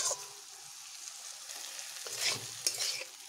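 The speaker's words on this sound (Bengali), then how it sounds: "মশলা দেওয়ার পরে এটিকে একটু ভালোভাবে ভেজে নেব।" Okra frying with freshly added spice paste, with a constant close sizzle and a few sharp scrapes and taps of a spatula against the pan, no speech.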